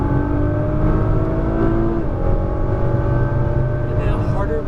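A car accelerating hard out of a corner on a race track day in Las Vegas, loud steady engine drone with rising harmonic tones heard from inside the cabin, with a voice talking over it.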